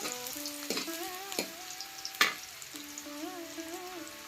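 Small onions frying in a pan for a crisp palya, a faint sizzle with a few sharp clicks and knocks from stirring, mostly buried under louder melodic background music.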